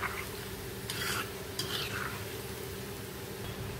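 Ginger-and-garlic-marinated mackerel fish fingers frying in oil, a soft, even sizzle with a couple of brief scraping stirs, quiet and close with no talk.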